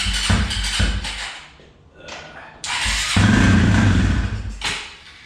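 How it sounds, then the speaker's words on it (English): A 2004 Suzuki LTZ250 ATV engine cranks and catches, then settles into a loud, steady close-up idle, with a brief dip before it picks back up. "Let's fire it up and see if we can get the idle to raise."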